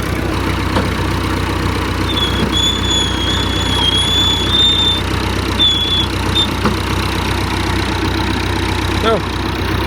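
A Massey 50 digger's engine runs steadily at idle, a loud continuous drone with a thin whining squeal layered over it, heard close by and unbroken throughout.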